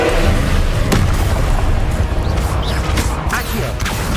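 Confringo explosive spell cast in the Hogwarts Legacy video game on PC: loud, sustained booming blasts with sharp cracks near the one-second mark and around three seconds, over a rumbling, crashing background.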